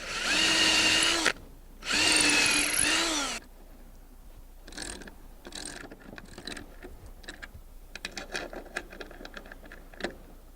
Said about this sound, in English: I'm going to drill a pilot hole for the 5/16 lag bolt